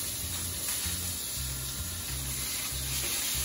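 Fish fillet sizzling steadily in a hot frying pan right after being flipped, a loud continuous hiss and crackle of frying with no talk over it.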